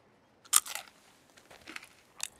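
Crunchy puppy snap dog treat being bitten and chewed, a few sharp close crunches followed by softer intermittent crackling chews, with no talking.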